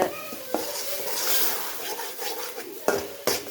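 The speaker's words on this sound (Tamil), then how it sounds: "எல்லாம் போட்டு நல்லா வதக்கலாம்" Ground paste, onion and cinnamon sauté in a pan for butter green chicken, with a soft sizzle under stirring and a few sharp clinks of a utensil against the pan.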